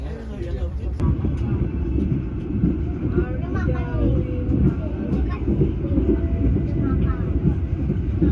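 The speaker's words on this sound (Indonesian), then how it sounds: "Langsung berangkat lagi meninggalkan stasiun Arjawinangun" A passenger train on the Jakarta–Surabaya line pulls out of Arjawinangun station, giving a steady, loud rolling rumble with wind buffeting that continues throughout.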